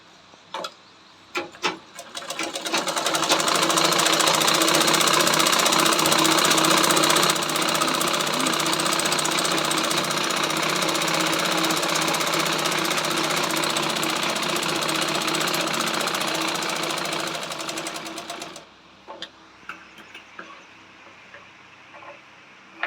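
A sewing machine stitches the joint of a lined blouse with a steady, loud whirring run of about fifteen seconds. A few sharp clicks and handling noises come before and after the run.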